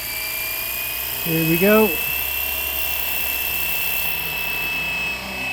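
A Flywing Bell 206 RC model helicopter whines steadily as its rotor spools up, with a rising pitch sweep during takeoff among trees outdoors; someone speaks briefly over the continuous motor drone.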